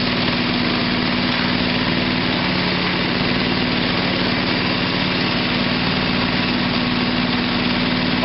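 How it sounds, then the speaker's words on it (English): A small dozer's engine idles steadily while the blade hydraulics are worked up and down to purge air, making a loud, constant close-up drone with no breaks. "let's raise and lower the blade a little bit here. Make sure we got all the air out of the hydraulics."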